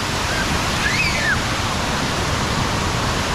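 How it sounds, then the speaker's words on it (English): The Kuang Si waterfalls in Luang Prabang, Laos pour into pools with a steady, loud rushing roar, and a faint bird chirp rises briefly above it. "We got all these beautiful falls, these awesome pools of water."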